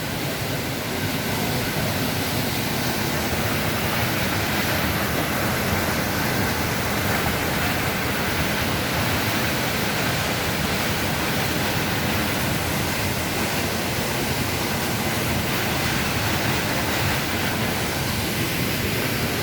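Rushing water of Düden waterfall in Antalya roars as a steady, dense broadband wash, loud and constant throughout with no voices over it.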